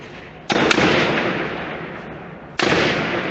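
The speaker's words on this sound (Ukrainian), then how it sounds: "Слухайте, це автомати." Bursts of automatic weapon gunfire during clashes on the Maidan in Kiev, Ukraine, two loud sudden onsets each followed by a sustained crackling roar of rapid shots echoing in the open street.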